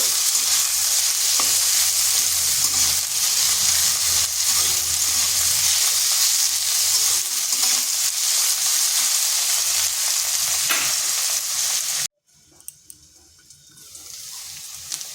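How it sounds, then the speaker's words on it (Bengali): Cut potatoes sizzle loudly in a pan after a spice tempering, for a ridge gourd posto dish; a dense, steady frying hiss fills most of the clip, then drops abruptly to a much quieter background near the end. "আলুগুলোকে হালকা একটু ভেজে নেব"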